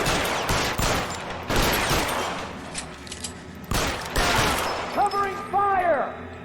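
Gunfire crackles during a shootout in the L.A. Noire video game, with repeated bursts of loud shots, a shouted voice in the mix and a rising whine near the end.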